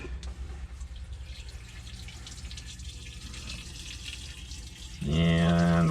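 Pink RV antifreeze pouring steadily through a camper toilet during winterizing, a continuous close wash of flowing liquid that grows louder and fuller toward the end.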